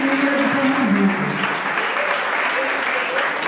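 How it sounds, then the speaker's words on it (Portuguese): An audience at the opening of a Pernambuco culture event applauds the state's culture official, steady dense clapping throughout with voices faintly mixed in. "Então vamos aplaudir Renato Carvalho"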